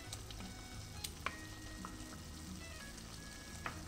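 Mutton pieces frying with ginger garlic paste in a pot, giving a steady soft sizzle with faint clinks of a stirring spoon throughout.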